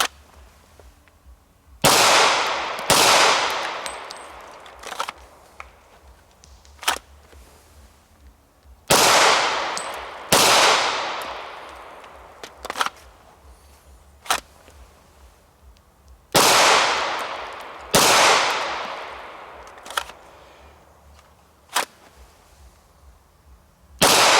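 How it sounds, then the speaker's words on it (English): Smith & Wesson M&P pistol, in 40 and 9mm, fired at a range in spaced pairs and single shots: sharp, loud cracks with ringing decay, roughly a dozen reports separated by pauses of several seconds. "So I'm just going to look, press 2 shots, and then reholster."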